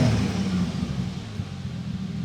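A Toyota 2JZ engine in a Supra fitted with a Precision turbo revs under light throttle, a loud, close, rumbling drone that eases slightly and holds steady for a couple of seconds.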